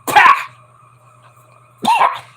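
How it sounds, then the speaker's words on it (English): Two short, harsh bursts from a person, one at the very start and another near the end, separated by a quiet stretch with a low steady hum underneath. "Excuse me, I had a cough."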